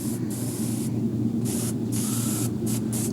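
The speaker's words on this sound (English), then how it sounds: "Then I'll bend the fish down and finish spraying the white up the front side." Airbrush sprays white paint onto a largemouth bass being mounted by a taxidermist, a steady hiss under a constant motor hum that cuts in and out in several short bursts.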